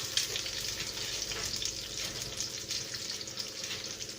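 Mushrooms fry in a greasy pan for a vegetarian breakfast, giving a steady, close hiss of sizzling fat that holds evenly throughout.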